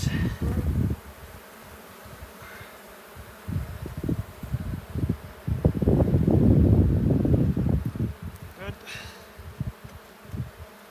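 Honeybees swarm and hum around an open hive during an early-season inspection, a dense buzzing drone close to the microphone with frames knocking and shifting, loudest mid-way, with brief murmured talk.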